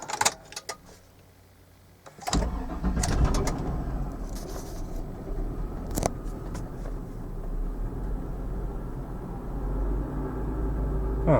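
A GMC Yukon engine turns over and catches after about two seconds, then settles into a steady low idle, with pigeons cooing nearby.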